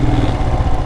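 A Royal Enfield Himalayan 411cc single-cylinder motorcycle cruises at speed on a motorway, with a loud, steady engine drone and wind rush filling a brief moment.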